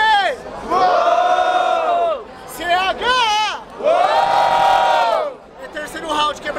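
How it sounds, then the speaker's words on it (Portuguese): A crowd cheers and shouts at a street rap battle in Barueri, São Paulo, loud chanted whoops rising in several bursts with brief dips between them, close and energetic. "Barulho para as rimas do Mike!"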